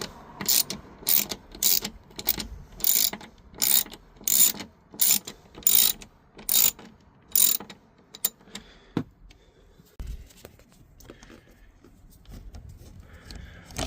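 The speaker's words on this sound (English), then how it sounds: "to remove that one you're gonna be using Torx bit number 20" A ratchet driver with a number 20 Torx bit loosens a screw on the plastic seat track trim panel of a Dodge Grand Caravan, giving a quick run of sharp, loud clicks. These are followed by quieter fumbling and handling sounds.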